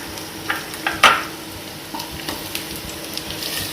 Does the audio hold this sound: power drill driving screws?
no